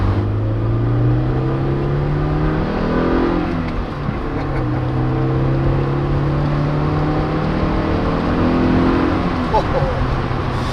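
A 1986 Toyota MR2 Mk1 with around 100,000 miles pulls hard through the gears, its engine note climbing repeatedly and dropping at each shift, loud and close, while someone talks over it.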